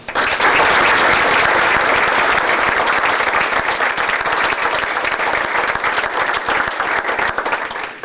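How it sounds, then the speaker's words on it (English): Sustained applause from a banquet audience for the coaches of a youth baseball team, loud and dense clapping continuing steadily throughout with no pauses. "So I think we need to give him a big round of applause."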